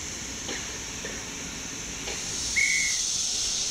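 A steady steam hiss from a steam train at a station on the Isle of Man runs throughout, with a few short puffs and a brief high whistle near the end.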